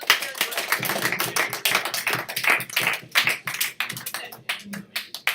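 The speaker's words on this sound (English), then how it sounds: "a round of applause for David" A class in an AP Economics lecture applauds, many hands clapping in a brisk, uneven patter that stays steady for several seconds, close and moderately loud with no clear voices.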